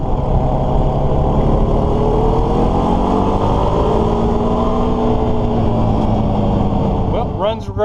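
A Honda Rancher 420 ATV engine drones steadily and loudly while being ridden, its pitch rising and falling with throttle, close up throughout before easing off at the end.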